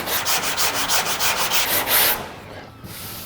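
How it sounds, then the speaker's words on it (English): Fresh car paint on a Mk1 Ford Escort is sanded by hand down to a masking tape edge in rapid, even rubbing strokes, loud and close, stopping abruptly near the end. "all I'm doing is rubbing down to the edge of the tape"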